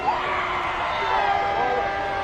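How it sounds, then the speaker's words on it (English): A crowd on a city street screams and yells during a police raid at a protest, a continuous, dense wall of distant shouting that holds steady throughout. "People are screaming on the street in response."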